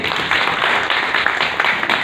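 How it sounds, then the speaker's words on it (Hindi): An audience at an outdoor eye donation awareness event in a nursery park claps steadily, a dense, continuous patter of many hands, fairly loud and without speech. "खूब सारी तालियां हो जाए इनके लिए"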